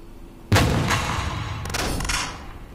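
Video game gunfire aimed at war machines, one loud sudden blast followed by a sustained roaring boom and a second burst of firing, close and heavy with no speech.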